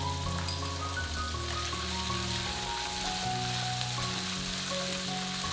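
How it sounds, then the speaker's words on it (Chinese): Doubanjiang chili bean paste sizzles steadily as it is stir-fried in oil with ginger, garlic and green garlic, a continuous dense crackle with a faint tonal hum beneath. "把豆瓣酱的红油炒出来"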